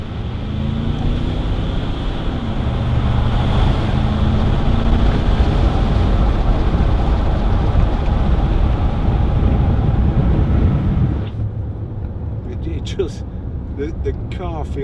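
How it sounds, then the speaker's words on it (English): A 2010 Range Rover Sport 3.6 TD V8 diesel accelerating uphill: a loud, steady low engine rumble with rising tones and wind noise for about eleven seconds, then a quieter, thinner cabin sound with brief higher clicks. "give it a bit of gas going up here, and even for a diesel, they sound really good"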